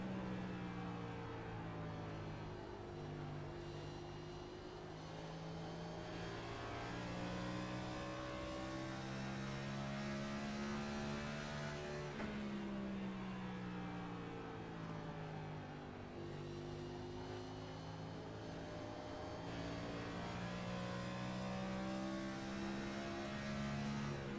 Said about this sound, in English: from the sounds of it, it doesn't sound like Charlie's shifting